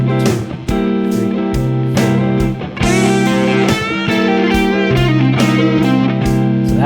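An electric guitar riff mixing major and minor pentatonic lines with hammer-ons, played with a bright distorted tone in quick repeated phrases, clear and alone.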